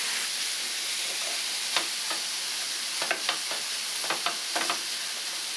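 Ground venison browning in a pan over medium heat for egg rolls, a steady close sizzle with several sharp scraping stirs and clicks scattered through the second half, no voices.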